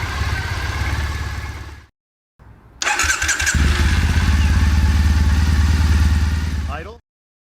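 A Triumph Bonneville motorcycle fitted with a TOR exhaust idles loud and close, cuts out briefly, then starts again and settles into a steady, throbbing idle before it stops.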